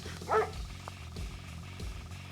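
A single short dog bark from an attack dog unit in the Red Alert 2 Soviet campaign, heard once near the start over a steady game background hum, with faint low thumps following.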